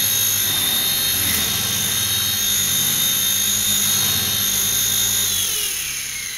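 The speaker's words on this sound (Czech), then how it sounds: "no ale stačí roztočit naplno" BeeWi StingBee toy helicopter with its rotor spun up to full speed, a steady close high-pitched motor whine and buzz that holds evenly, then eases slightly at the end, alone without talk.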